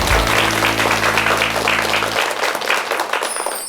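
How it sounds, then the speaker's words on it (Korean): An audience in a Korean lecture hall applauds to welcome a speaker. Loud, full clapping runs through the whole clip, with a low hum underneath at first. "박수로 청해 듣겠습니다"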